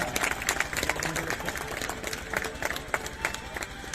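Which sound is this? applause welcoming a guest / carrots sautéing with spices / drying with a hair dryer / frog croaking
applause welcoming a guest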